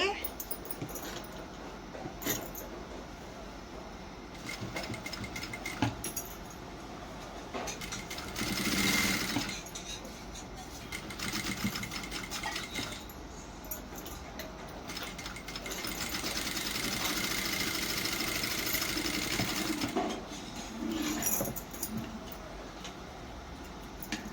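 A sewing machine stitches plain blouse fabric in bursts of rapid needle clatter separated by pauses, fairly close, with someone talking at times between runs.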